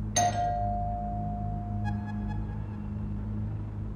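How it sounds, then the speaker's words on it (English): Doorbell at a house's front door, a clear electronic chime near the start and a second, fainter set of tones a moment later over a low steady hum. "So, should I knock on the door, ring the bell?"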